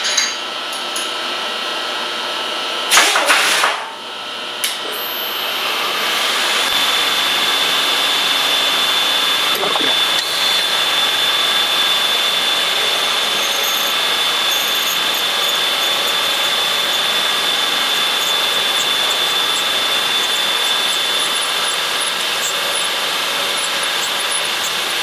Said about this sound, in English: As I drill and ream that hole, I'm not going to have any deflection.